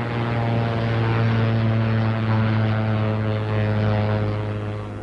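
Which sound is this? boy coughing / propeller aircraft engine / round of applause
propeller aircraft engine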